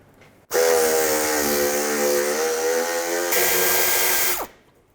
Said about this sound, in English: Use a 10mm socket, take those 2 bolts out.